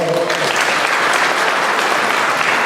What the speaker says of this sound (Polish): dla niego też duże brawa, szanowni państwo